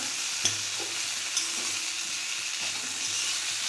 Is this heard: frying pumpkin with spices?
yes